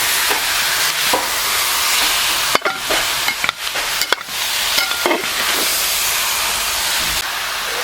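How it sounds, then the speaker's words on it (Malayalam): Kerala-style beef roast masala being stirred and fried in a pan, a loud broad hiss of sizzling with a few sharp scrapes and knocks from the spoon, close up, no talking. "നന്നായിട്ട് അത് ഇളക്കി യോജിപ്പിച്ച് കൊടുക്കണം. മസാലയ്ക്ക് എല്ലാ ഭാഗത്തേക്കും പിടിക്കുന്ന വിധത്തിൽ"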